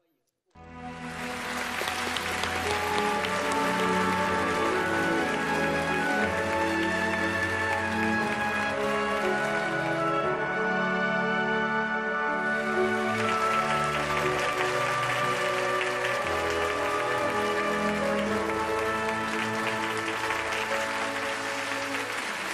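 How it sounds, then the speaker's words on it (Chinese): A large studio audience breaks into sustained, dense applause to welcome a guest onto a Chinese television show, steady and loud throughout, with a brief dip partway before the clapping swells again. "我们掌声欢迎郭阿姨"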